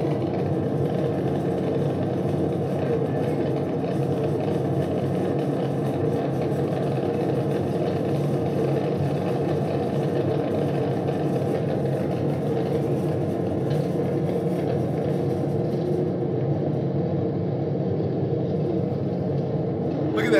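Continuous low engine rumble and road roar from a high-speed chase on back roads between a police car with a 5.7 engine and a Mustang GT, steady and fairly loud throughout with no talking.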